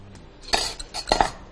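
A spoon scrapes and clinks against a pan while lemon truffle mixture with grated lemon zest is stirred, a few short bright metallic knocks close by, no voices.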